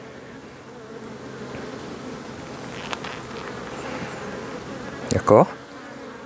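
Honeybees buzz continuously around brood frames of an open hive, a dense close hum with a few louder passes near the end, and a voice speaks briefly.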